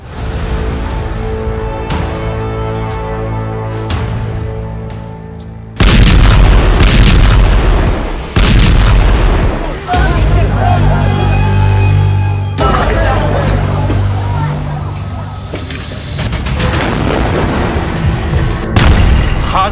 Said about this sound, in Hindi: गाजा में गिरते गोलों के बीच